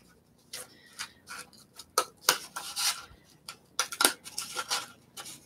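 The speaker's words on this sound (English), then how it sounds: "These scissors are not that awesome" Scissors snip through paper in a series of short, crisp cuts, close and distinct, with uneven spacing between strokes.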